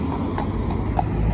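Horse hooves clip-clop steadily at close range, a rhythmic patter of soft footfalls with no voices over them.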